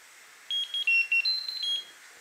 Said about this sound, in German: Der Schnellkochtopf piepst.